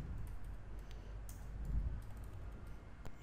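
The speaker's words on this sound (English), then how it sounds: "I'm going to type my name" Keys on a computer keyboard are typed softly, a faint run of scattered clicks over a quiet, low background hum.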